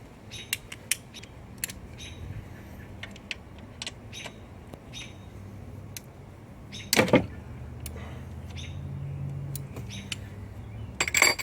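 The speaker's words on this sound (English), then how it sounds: "Real bolt is 13mm, so I'm gonna have to take a wrench." Wrench working a 13mm bolt on a BMW E46 oil filter housing, with sharp intermittent ratchety creaks and clicks, a louder burst midway, close up over a quiet background with no speech.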